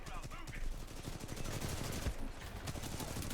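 Rapid automatic gunfire rattles continuously in the video game Titanfall 2, a dense, steady stream of shots at moderate loudness with no clear speech over it.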